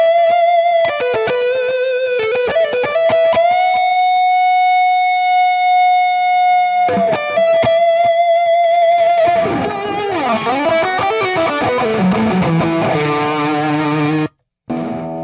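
Electric guitar runs through a Tonex pedal capture of a JCM 800 amp with a Tube Screamer, ringing distorted notes and held tones, then busier chordal playing, loud and alone with a short dropout near the end.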